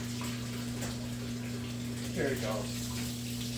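Tap water runs steadily at a sink while waiting for it to heat up before making bread, a constant broad rush with a low mains hum beneath; someone speaks briefly partway through.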